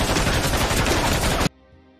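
Sustained machine gun fire from an American soldier in a war film, a loud dense burst of rapid shots that cuts off abruptly partway through, leaving near silence.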